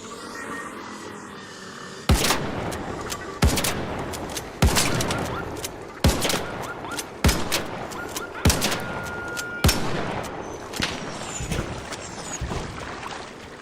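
Shotgun blasts in the video game ARC Raiders: about nine sharp, loud, booming shots fired roughly a second apart, each with a short ringing tail over a low background hum.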